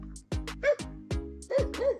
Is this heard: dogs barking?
yes